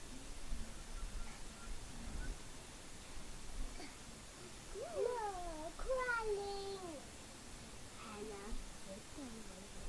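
A gray kitty meows in a short run of rising and falling calls near the middle, fairly close, over a steady background hiss.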